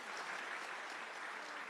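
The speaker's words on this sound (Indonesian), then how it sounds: "tepuk tangan untuk ibu, bagus." Applause at a seminar on love and temptation, a steady wash of clapping from the audience, moderately distant and even throughout.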